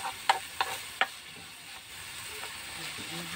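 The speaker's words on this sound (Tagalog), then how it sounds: "Tapos haluin na natin." Seasoned food is stirred in a pan: three sharp clinks of a utensil on metal come first, then soft scraping over a faint, steady sizzle.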